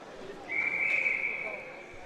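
A referee's whistle blows one sustained, shrill blast of about a second during a varsity high school ice hockey game, over a steady hum of rink ambience.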